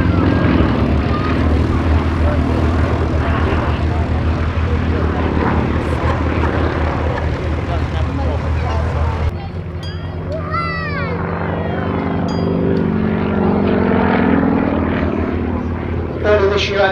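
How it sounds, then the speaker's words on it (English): A Pitts Special biplane's propeller engine drones loudly as it parks up at an airshow, its pitch and strength shifting about halfway through, with a commentator's voice over it. "Peter Borchert flying this fantastic aeroplane, which he built himself."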